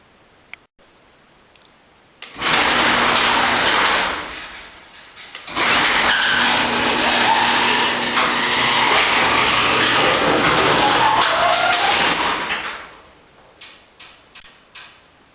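A newly installed garage door opener runs with a steady, loud mechanical drone, roughly ten seconds of continuous motor and chain noise with a brief pause partway, then a few faint clicks as it stops.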